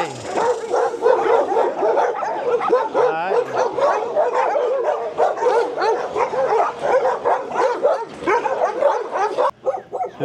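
Several dogs bark and yip continuously at close range, a dense, overlapping chorus of excited barks with some whimpering, loud and without pause.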